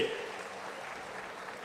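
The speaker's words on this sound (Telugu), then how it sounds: "చప్పట్లు కొట్టి మీరు కూడా అభినందించండి." An audience claps at a government gathering, steady moderate applause slightly distant, fading gently over the short span.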